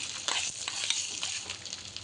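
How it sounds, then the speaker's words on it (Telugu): Curry leaves and a spice tempering crackle in hot oil for mint chutney, a steady bright sizzle with small pops throughout, close and fairly quiet, no voices. "కరివేపాకు ఇందులో ఒక పోపు తీసుకొని ఇందులో వేసుకుందాం."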